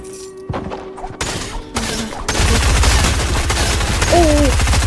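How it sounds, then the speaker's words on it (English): Rapid SMG gunfire in the Fortnite video game rattles out in fast bursts, starting with sparse shots and building into a dense, continuous volley of loud cracks, with a short electronic tone near the end. "Alright, so you know we got our nice little SMG."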